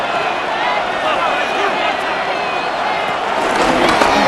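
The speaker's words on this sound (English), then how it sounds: "This crowd into it now as we get to 3rd down." Simulated stadium crowd in Madden NFL 26 during a Buffalo Bills versus New York Jets game, a steady dense roar swelling toward third down, with a commentator talking over it.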